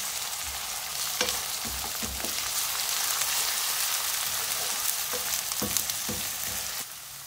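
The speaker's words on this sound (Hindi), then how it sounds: "फ्राई करेंगे इसको।" Onions fried to light brown sizzle in a pan with a tablespoon of garlic-ginger paste, a steady close hiss broken by occasional scraping and stirring clicks.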